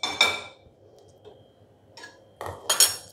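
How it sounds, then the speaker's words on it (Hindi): A frying pan set down on a kitchen stove while preparing rice kheer, giving sharp metallic clatters at the start and again near the end, with quiet gaps between. "इस पर चढ़ाते हैं एक फ्राई पैन।"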